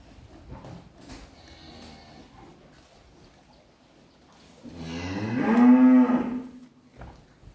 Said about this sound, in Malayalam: ഇതൊക്കെ വിൽക്കാനോട് നിർത്തിയേക്കുന്ന പശുക്കളാണ്.